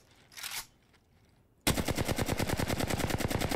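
Sudden burst of rapid automatic gunfire in Apex Legends, loud and close, firing continuously in a fast even rhythm after a brief earlier whoosh and near-silence.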